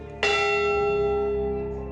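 A single strike of the Edmund Fitzgerald memorial bell rings out loud and close, a bright clang that hangs in a long, slowly fading hum.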